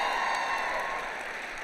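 Audience applause in a lecture hall, a dense, steady wash of clapping that holds at an even level throughout and tapers slightly toward the end.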